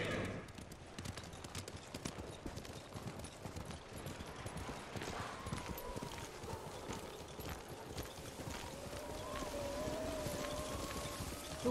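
Horse hooves clip-clop steadily while riding through snowy, worsening weather in the video game Ghost of Tsushima, a continuous rhythmic patter under ambient wind and a soft score.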